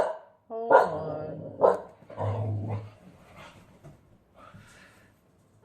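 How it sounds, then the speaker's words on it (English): A watchful pet dog barks in a few loud, close bursts mixed with a low growl, then falls quiet as background noise settles. "sorry, my dog is barking."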